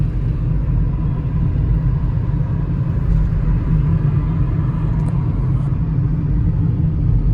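Inside a car moving slowly through heavy traffic, a constant deep engine and road rumble dominates, steady and loud throughout, with faint higher noises in the background.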